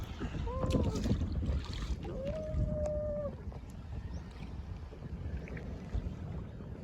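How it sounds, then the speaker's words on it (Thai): A kayak is paddled out on the sea off an island in the Gulf of Thailand, wind buffeting the microphone over soft water sloshing, with a few tonal squeaks and people talking nearby. "ครั้งแรกนะคะกับการพายเรือออก"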